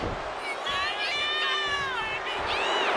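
An arena crowd roars and cheers during a women's wrestling match in the WWE 2K26 video game, a dense, sustained wash of noise with whistles and shouts, heard alongside a person talking.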